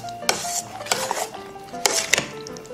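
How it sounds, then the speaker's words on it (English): A spoon stirs baked beans with spices in a pot, with repeated clinks and scrapes of metal against the pan in a loose rhythm, close and clear. "I'll just mix these a little more to blend those spices in."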